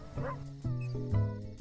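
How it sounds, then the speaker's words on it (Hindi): A dog gives three short barks in quick succession, close and fairly loud, each a brief tonal yelp. "सही समय पर कुत्ता तो बीच में आ गया।"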